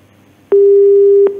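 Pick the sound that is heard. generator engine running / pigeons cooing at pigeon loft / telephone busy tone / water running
telephone busy tone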